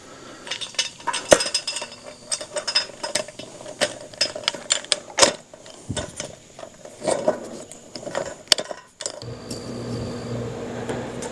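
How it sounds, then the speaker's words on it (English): A small nut is tightened by hand on a metal electric fence fitting mounted on a chain link fence, producing close, irregular metallic clicks, clinks and scraping taps, with a faint hum toward the end. "See, now about tightening this little nut down."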